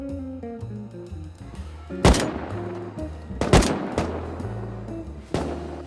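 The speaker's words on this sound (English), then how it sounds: "I was on roof with AK shooting at their neighbors" AK rifle fire in the survival game Rust, heard as several loud, sharp shots spaced a second or two apart over a busy game soundscape of tonal effects.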